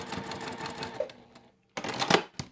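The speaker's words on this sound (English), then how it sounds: "come right along that edge, and then I'll do a back stitch" A sewing machine back-stitches along the edge of a quilted Christmas stocking, a quick close mechanical rattle that stops for a brief pause, then starts again in a second short burst.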